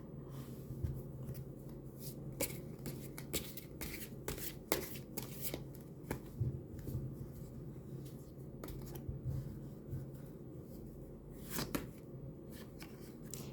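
Tarot cards being shuffled by hand in a quiet room, a string of quick papery riffles and soft slaps coming in irregular bursts, close and fairly quiet, with no talking.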